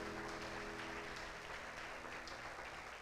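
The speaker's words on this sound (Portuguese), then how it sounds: "Dá um aplauso aí ao Senhor." Steady applause from a congregation during a church service, fairly faint and distant, continuing evenly without talk over it.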